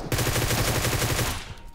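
Rapid automatic gunfire from PUBG Mobile on a desert map, a steady burst of closely spaced shots lasting over a second before cutting off, loud and close with no talk.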